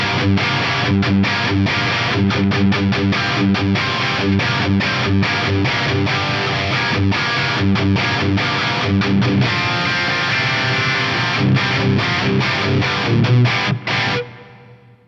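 Electric guitar played through the reverb of a TC Electronic G Major 2 multi-effects unit, set with thick low colour, high overall reverb and lowered room level: loud, dense continuous chords with rhythmic strumming, ringing out and cutting off near the end.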